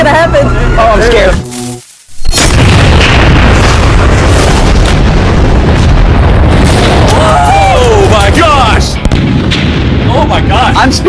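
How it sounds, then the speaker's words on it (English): A sudden deafening explosion blast erupts after a brief lull, followed by a long roaring rumble and crackling debris, with excited voices shouting over it. "This is going to be a massive explosion."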